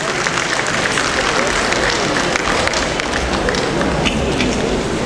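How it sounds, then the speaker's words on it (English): Crowd applause for a traditional ruler at an African fashion event with youths, a steady wash of clapping filling the whole stretch, with some voices mixed underneath. "a round of applause for him, please"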